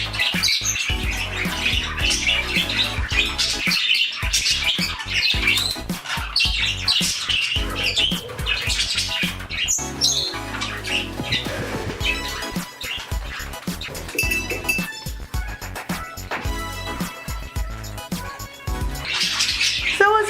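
Pet budgies and a cockatiel in a home flock chatter and squawk continuously, with dense bursts of shrill calls and chirps layered over one another throughout, loudest and most piercing near the end.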